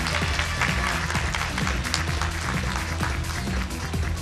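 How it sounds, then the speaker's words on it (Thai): An audience at a male pageant world final fills a large hall with continuous, dense applause, loud and even throughout, with a low rumble of the venue beneath it. "ขอเสียงปรบมืออีกครั้งนึงครับทั้ง3ตำแหน่งเลยนะฮะ"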